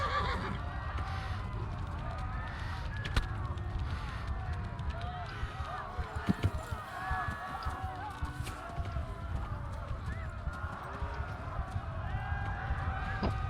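Horse galloping in the video game Kingdom Come: Deliverance, rhythmic hoofbeats running steadily under a player who talks through much of it, with occasional heavier thumps.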